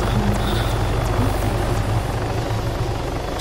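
A helicopter in the video game ARMA III whirs and thumps steadily and close, its rotor pulse and engine drone holding loud and even throughout with no talk over it.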